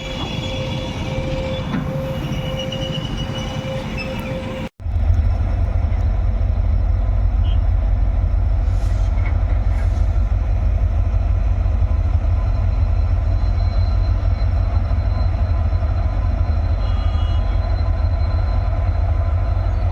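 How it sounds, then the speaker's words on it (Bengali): A stone-loaded freight train rumbles loudly and continuously across a rail bridge nearby, deep wheel roar with metallic screeching, after a sudden jump in level a few seconds in. "এখন এই মুহূর্তে পাথর লোড গাড়ি ব্রিজ পার করে বেরিয়ে যাচ্ছে"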